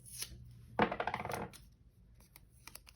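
A piece of paper is torn by hand, one short close rip of crinkly tearing, followed by quieter light rustling.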